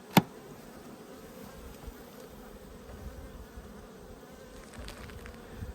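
A colony of honey bees hums steadily in a freshly opened hive box, a continuous close, moderate buzz with one sharp knock at the start and no talking.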